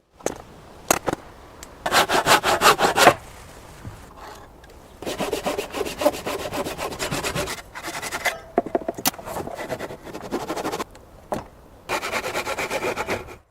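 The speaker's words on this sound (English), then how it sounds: "With a handsaw, he slowly cuts the wood into shape, making the corners so that there are no gaps when they are joined." A handsaw cuts pieces of wood for a tree house frame in the woods, rasping back-and-forth strokes in uneven bursts with short pauses between, close and moderately loud, no voices.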